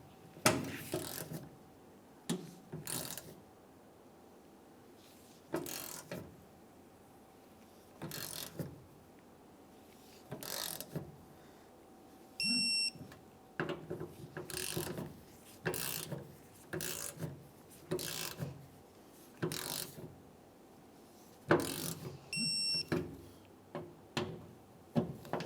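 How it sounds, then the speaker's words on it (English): Bolts on a 2005-2010 Dodge Dakota tailgate handle being torqued to spec with a ratcheting torque wrench: repeated short bursts of clicking ratchet strokes separated by pauses, fairly close, with no talk. "Once you have them bottomed out, torque them to 19 foot-pounds."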